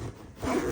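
The zip on a VW camper blind is pulled in one quick rasping stroke, close and clear, rising toward the end of the brief pull.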